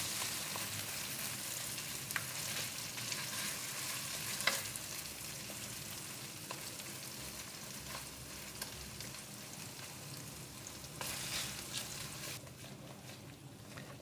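Khoya for carrot halwa, melted to a liquid state, fries over low heat in a pan with a steady close sizzle and occasional stirring scrapes throughout, no voices.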